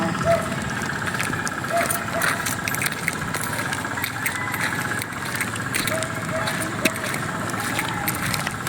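A motorcycle engine idles steadily nearby during an outing at DRT Bayabas, a low continuous rumble that holds for several seconds while people chat over it.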